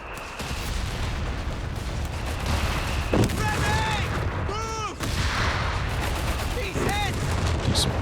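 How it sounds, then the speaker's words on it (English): A Stummel fires an artillery barrage in Company of Heroes 3, a steady stream of booms and gunfire blasts with whistling shells, while a commentator talks over the battle. "Decent barrage out the back from the Stummel"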